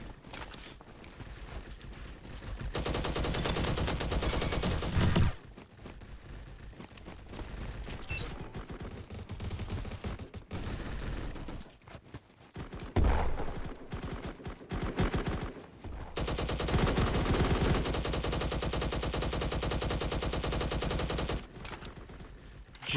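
Sustained bursts of LMG machine-gun fire in the video game Bad Business, loud, close and rapid, in several long strings separated by short pauses, with mechanical clatter between bursts.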